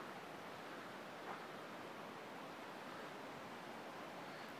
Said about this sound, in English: So here in the background is a waterfall.